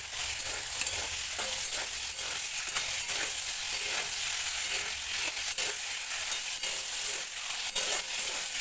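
Boiled flat beans cook with melted tomato and capsicum in a pan, giving a constant dense sizzle close by with faint stirring ticks throughout.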